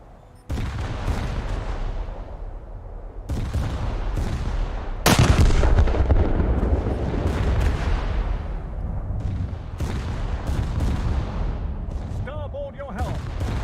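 Secondary guns on a warship in a naval combat game fire at aircraft in sharp repeated booms, with one loud blast near the middle and rolling rumble between shots, while a voice talks over the gunfire.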